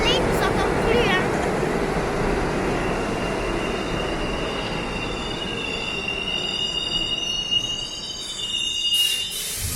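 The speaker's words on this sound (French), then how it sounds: "Normalement, si tout va bien, le métro passe." A metro train rolls past close by, a loud steady rumble with high metallic wheel squeals ringing over it, fading slightly toward the end.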